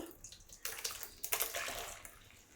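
Quiet bursts of water pouring and splashing through a white cloth strainer, coming in a few uneven surges before trickling steadily.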